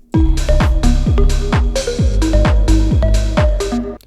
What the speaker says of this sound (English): It's making the song very lo-fi.